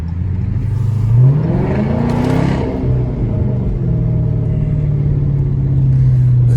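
A Chrysler 300 with a 5.7 HEMI V8 revs loud and close, its deep rumble climbing in pitch, easing, then holding a steady high drone.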